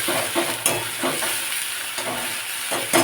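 Onion paste hitting hot oil left from frying fish, with a dense, close sizzle and repeated scraping stirs of a spatula in the pan, with a few sharper knocks.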